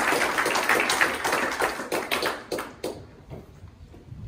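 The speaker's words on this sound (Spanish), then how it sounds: "Denle un aplauso al Señor y póngase de pie." A church congregation applauds, a dense burst of clapping that tapers into a few scattered claps and fades within a few seconds.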